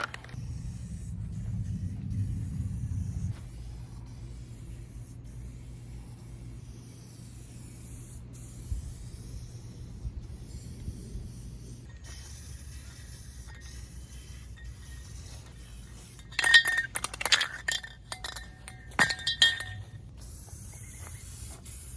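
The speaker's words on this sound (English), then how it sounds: "So let's start spraying this on" Red spray paint hissing from an aerosol can onto a Chevrolet C10 Squarebody pickup truck bed during a patina-matching paint job, quiet and steady with a few louder, sharper bursts near the end.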